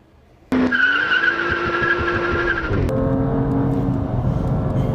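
A BMW M2 runs hard on the Laguna Seca track, engine note rising loud and near with tyre squeal, then the pitch drops abruptly as it shifts and continues droning steadily.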